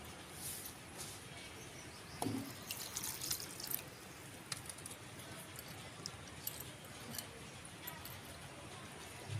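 Tamarind is washed in water, giving faint, soft sloshing and dripping with a few light clinks in a quiet room.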